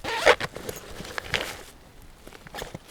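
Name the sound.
zipper of Maxpedition Xantha backpack being opened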